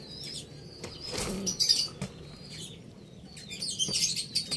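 A racing pigeon hatched in 2014, an older bird, beats its wings in several sharp, close flurries of flapping, with faint chirps in the background.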